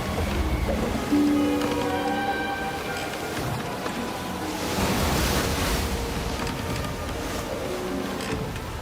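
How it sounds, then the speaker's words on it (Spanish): Rough, choppy sea surges and crashes under a strong, steady wind, a dense, continuous roar with swells of louder breaking water and no voices. "Y el mar estaba agitado porque soplaba un fuerte viento."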